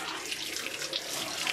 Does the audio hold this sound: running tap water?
yes